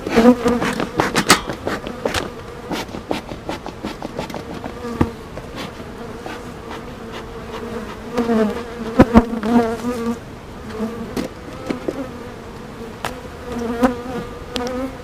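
Honeybees buzz steadily around a hive on a hot day, with a dense droning hum and individual bees passing close by the microphone, with no talk.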